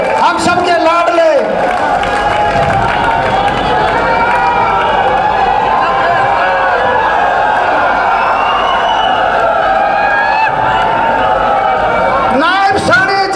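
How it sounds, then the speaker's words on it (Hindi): A rally crowd welcomes Haryana's chief minister Nayab Saini with sustained cheering and clapping, a dense roar of voices over a loud public-address announcer. "एक बार जोरदार तालियों से स्वागत"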